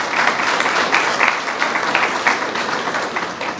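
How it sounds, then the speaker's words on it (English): A room full of people applauds steadily at a search-dog team pairing ceremony, a dense, continuous wash of clapping that holds even for several seconds without talk. "If we can give them a round of applause as well."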